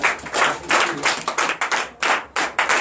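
A church congregation claps in bursts of uneven rhythm, loud and close, with a few brief pauses between rounds of applause.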